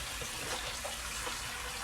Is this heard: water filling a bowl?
yes